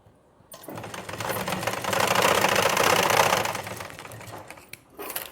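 A sewing machine stitching a blouse runs in a steady, fast mechanical whir that swells in the middle and tapers off, close and loud with no talking.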